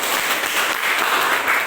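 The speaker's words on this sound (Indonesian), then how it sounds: "berikan tepuk tangan." A classroom of students claps for a group presentation, a loud, even wash of close applause that runs unbroken across the moment.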